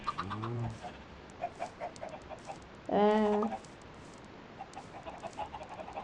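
A Minecraft chicken clucks briefly, then a louder, drawn-out squawk rises over faint background chatter and scattered soft noises.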